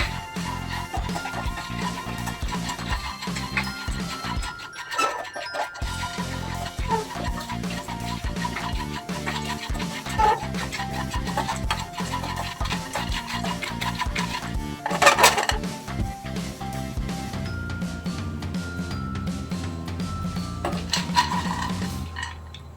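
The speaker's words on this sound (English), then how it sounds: "Give it a good mix so that all the spices are applied evenly on all the soya chunks." Spiced soya chunks being mixed in a pan, steady scraping and clinking of a spatula against metal, close and continuous with a few louder clattering bursts.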